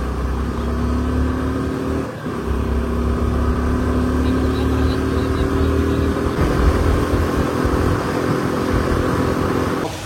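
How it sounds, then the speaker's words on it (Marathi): Motorbike engine droning steadily at speed on an open road, a loud, constant hum with rising tonal whine and wind rush that runs continuously throughout. "चला आता गाडी 80ला टेकणार आहे"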